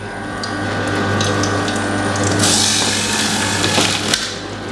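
A slow juicer and a centrifugal juicer run side by side squeezing oranges, a loud continuous mechanical whir and grinding hum with occasional clicks and a brief swell of spinning noise midway.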